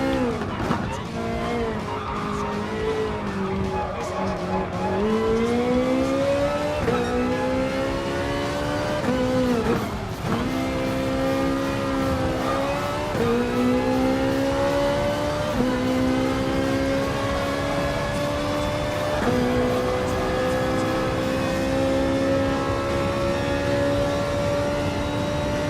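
A Ferrari 458 Italia GT3 in Gran Turismo Sport screams through repeated gear changes, its engine pitch climbing and dropping in a rhythmic sawtooth pattern, loud and continuous, with occasional tire squeal mixed in.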